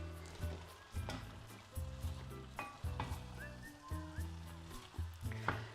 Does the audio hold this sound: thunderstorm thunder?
no